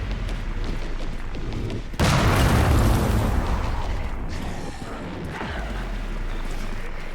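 A mortar zombie explosion in a video game bursts in as a loud, broad boom about two seconds in and rumbles on for several seconds beneath a steady game-noise bed.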